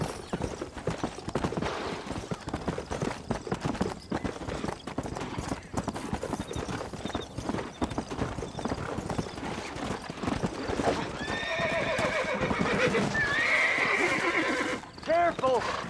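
Hooves clip-clop at a steady gallop while a horse neighs and whinnies several times in the video game Red Dead Redemption, with people talking over the hoofbeats.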